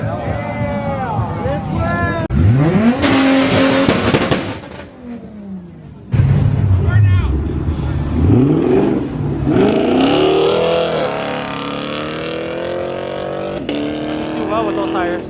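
At a street racers' takeover of a cars and coffee meet, a Toyota Supra Mark IV revs loudly through burnout smoke, its engine note climbing and falling in surges amid crowd chatter and other engines, with people talking nearby.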